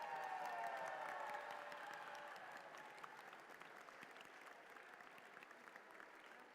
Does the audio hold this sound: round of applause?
yes